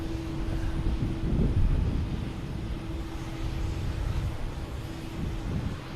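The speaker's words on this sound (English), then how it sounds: "should be a JetBlue heading to DC. An E190." A JetBlue Embraer E190 jet at Boston Logan Airport gives a steady, broad engine roar with a low hum, fairly distant and constant, with some wind noise.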